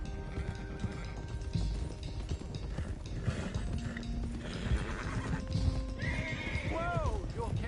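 Horses clip-clop along steadily in Red Dead Redemption 2 while one neighs and whinnies loudly near the end, with ambient game sounds underneath.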